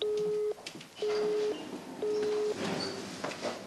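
A telephone busy signal from an unanswered call: a low tone beeps three or four times in an even half-second on, half-second off pattern, fairly faint under background noise.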